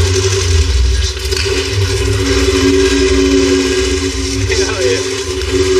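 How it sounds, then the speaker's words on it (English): A modified H1 Hummer engine running loud and close, a steady low rumble with sustained revving that holds throughout, with no voices over it. "That engine sounds so bad."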